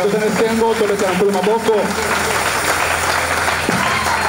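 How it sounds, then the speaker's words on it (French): Church congregation clapping and cheering in worship, a dense, steady burst of applause lasting several seconds, with a voice speaking over the start. "Si nous sommes dans la joie, acclamons pour le Seigneur."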